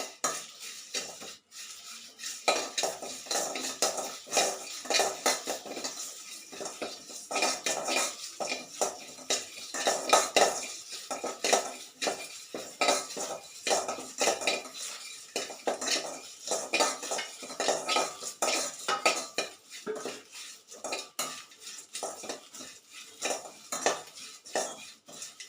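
Metal spoon scraping and clattering rapidly against a pan while biryani masala spices and leaves dry-roast, a dense, continuous rhythm of close stirring knocks with no talking.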